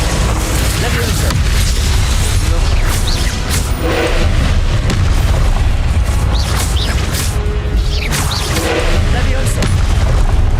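The Levioso spell in the video game Hogwarts Legacy casts with booming magical bursts and rumbling effects, loud and continuous over a dense layer of game noise, with a voice talking underneath.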